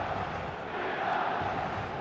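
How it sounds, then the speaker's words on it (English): A stadium crowd in the football video game eFootball 2026 roars as a steady, dense wash of massed voices, constant and moderately loud throughout. "This crowd doesn't do ordinary, and we should be in for something very special."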